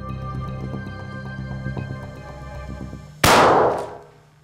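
A single sharp, loud blast from a 12-gauge hunting shotgun bursts out after a few seconds of low background murmur, then decays over about half a second.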